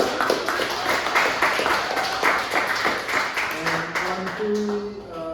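An audience at a poetry party claps for a performer in a moderate burst of applause, with voices talking over it.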